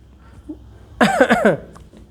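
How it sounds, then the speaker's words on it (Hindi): A woman gives a short burst of harsh, voiced coughs lasting about half a second, close by, after a small sound and before a quiet tail. "जिज्ञासु की मम्मी फिर से खांस पड़ी।"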